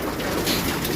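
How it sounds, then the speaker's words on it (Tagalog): Young pigeons cooing in a loft, a soft continuous murmur of low coos over steady background hiss, close and moderately loud throughout the short moment. "Mga bata pa yan, yung mga ibon natin na nahuling naiakyat."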